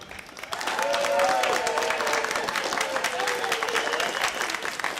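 A live audience at a country show breaks into dense, sustained applause with cheering and a few whistles, welcoming the guest Entropy64 onto the stage; the applause swells quickly and holds steady.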